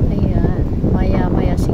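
Strong wind buffets the microphone on a beach at Boracay's Keyhole rock formation, with loud rumbling gusts throughout and a person talking over it.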